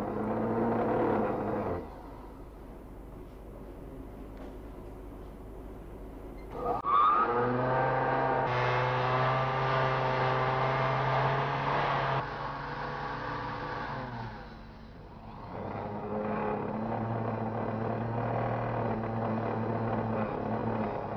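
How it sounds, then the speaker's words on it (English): A grinding wheel takes rough edges and lumps off hardened cabochons, its motor a loud, steady humming whine that rises and falls in pitch as the work is pressed on and eased off. "Pat Collinson takes the hardened cabochons and grinds any rough edges or lumps off them."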